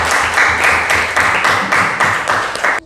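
A classroom applauds a student group, with brisk, rhythmic clapping from several students close by that stops abruptly.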